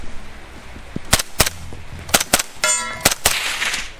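A Tavor X95 rifle chambered in 300 BLK fires supersonic rounds at a range, several sharp cracks spaced irregularly, loud and close, with metallic clinks in between and no speech.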